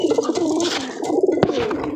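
Captured domestic pigeons, including one with pearl-coloured eyes, coo repeatedly at close range. The throaty, rolling calls come in soft pulses, with a brief sharp clack partway through.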